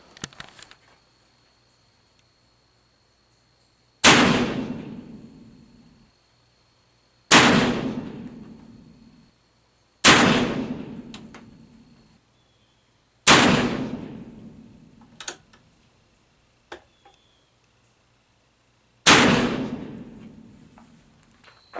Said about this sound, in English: We're going to shoot some rounds here,